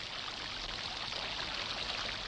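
Steady rain falling outdoors at night, a dense, even hiss with no breaks.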